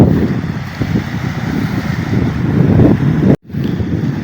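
Strong wind and high waves roar along an eroding coast, a loud, steady rumble of surf mixed with buffeting wind noise on the microphone, cut off by a brief dropout near the end.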